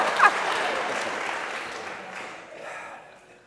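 An audience clapping at a live conversation event, a burst of applause that fades out over a few seconds, with some voices mixed in.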